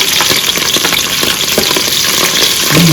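Green chillies fry in hot oil in a pan for Muslim-style chicken biryani, a loud continuous crackling sizzle heard close up with scattered stirring scrapes and no voices.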